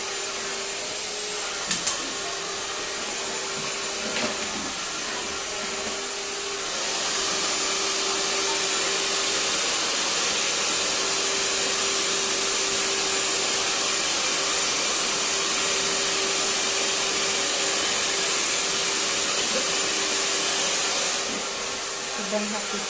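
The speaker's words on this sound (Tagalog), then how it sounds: "May blower ako eh." A hair blow dryer runs in a salon where a short haircut is being given, its steady breathy whoosh rising after a few seconds and holding loud and constant for a long stretch before dropping off near the end.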